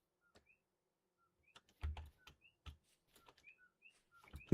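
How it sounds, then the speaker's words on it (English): Short whistled bird calls in the Vintage Story video game at night, faint scattered chirps mixed with soft clicking and tapping sounds in a quiet setting. "I hear what sounds like a bird song."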